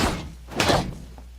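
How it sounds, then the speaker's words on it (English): A single muffled thud of a metal door being bashed in Alien: Isolation, a short dull impact over a low steady hum, fairly close and moderately loud. "Try to bust the door down."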